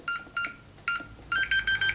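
A Honeywell G4 burglar alarm keypad beeping as a code is keyed in, with a string of short electronic tones, a few spaced presses followed by a quicker run of beeps, close and clear with no talking.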